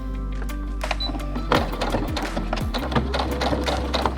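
A domestic sewing machine stitching the side seams of a cushion, a steady close mechanical whir with rapid needle chatter and a few clunks as the fabric is adjusted.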